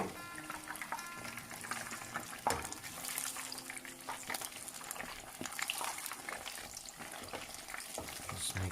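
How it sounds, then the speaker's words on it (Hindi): Fish frying in hot oil for fish and chips gives a soft, continuous bubbling sizzle at close range, with occasional light clatters of utensils over the steady hiss. "आप देख सकते हैं कि फ़िश जो है फ्राई हो रही है।"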